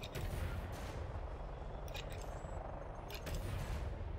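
Ship cannons fire in the space combat game Elite: Dangerous on a Vulture fighter. Repeated muffled shots and booms sit over a continuous deep engine rumble, with clusters of bursts around the middle and later, fairly quiet overall.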